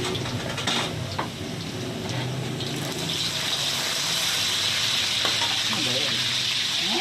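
Pork asado frying in a pan, a steady broadband sizzle with stirring clatter running continuously throughout, close and moderately loud, with faint voices in the background.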